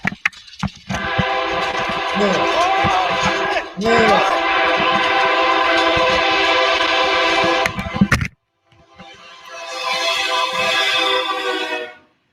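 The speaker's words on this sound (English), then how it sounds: "the blaring sound of the horn could be heard from directly behind them" A loud, sustained train horn blares close by for several seconds, echoing inside a tunnel, then cuts out before another horn-like blast rises after a brief silence.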